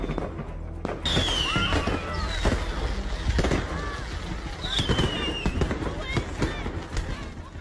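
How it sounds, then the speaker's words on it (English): Fireworks at a display stand in China crackling and popping in rapid irregular bursts, with whistling rockets streaking overhead and people's voices mixed into the chaotic din. "In China, a fireworks display stand unexpectedly exploded, causing chaos instead of becoming the fireworks viewing spot everyone had hoped for."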